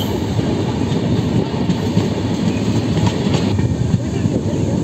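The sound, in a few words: Garba Express passenger train passing Fatehpur Sikri station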